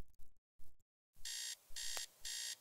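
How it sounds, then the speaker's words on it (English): Alarm clock ringing in the video game Teardown, three loud electronic buzzing bursts in steady rhythm, close and alone, after a few short clicks and silence. "My stupid alarm clock is going off."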